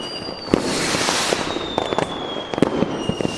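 Firecrackers bursting during Diwali celebrations, with a dense run of sharp pops and cracks over a hissing crackle, some loud and close, others farther off.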